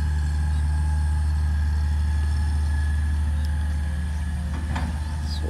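An excavator engine runs near a waterfall area, producing a loud, steady, low idling drone with a constant hum that holds unbroken throughout, with no voices.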